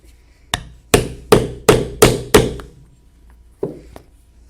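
A hammer drives decorative crystal rivets into a leather belt with a set of six sharp, evenly spaced strikes, followed after a pause by two lighter taps, close and clear with no talk.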